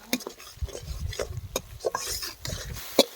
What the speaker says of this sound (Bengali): মশলাগুলোকে ধীরে ধীরে কষিয়ে নেব যতক্ষণ না মশলা থেকে তেল ছেড়ে দিচ্ছে।